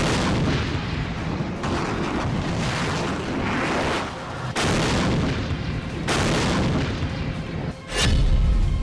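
Rocket artillery firing from a HIMARS multiple rocket launcher in Kherson, heard as a sustained loud roaring rumble with several sharp blasts and a heavy boom near the end.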